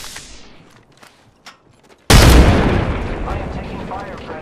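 Gunfire in the Apex Legends video game, a sudden loud blast that cuts in after quieter scattered sounds, then a dense sustained barrage of shots that slowly eases.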